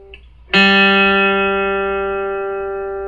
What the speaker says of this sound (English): That's the 3rd string, or G.